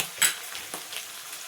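Capsicum and potato masala curry sizzles in a pan as a spoon stirs it, giving soft scraping and a few light clinks over a faint, steady fry.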